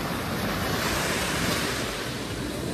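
Steady roar of ocean surf breaking on a beach in Ilocos, continuous and loud with broad wash and some wind buffeting the microphone, no voices.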